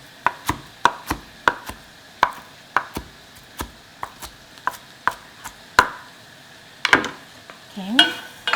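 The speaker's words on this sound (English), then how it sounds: "And then I'll just chop it up, these noodles." A knife chops cooked noodles in a pan, cutting them up after onion, green onion and garlic have been stir-fried; a steady run of sharp, evenly spaced clacks of the blade against the pan, close and clear, with a light sizzle underneath.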